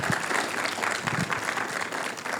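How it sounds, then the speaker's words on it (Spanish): A church congregation claps and applauds together in a steady, lively burst, fairly close and full, with no talking over it. "Den un aplauso al Señor."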